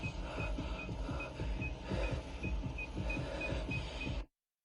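An electronic tracker emits evenly spaced high beeps over a dense, rumbling low background in a dark corridor, about a dozen pulses before everything cuts to silence.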